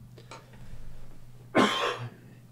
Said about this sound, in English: And apologies about the coughing.